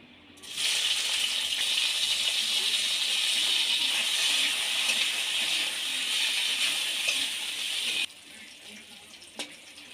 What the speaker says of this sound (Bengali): এবার ওই তেলের মধ্যে কেটে রাখা বেগুনগুলো ভেজে নেব।